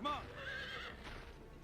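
A horse in the GUN video game lets out a sharp, high whinny at the start, followed by softer hoof clops and movement sounds, fairly close and moderately loud.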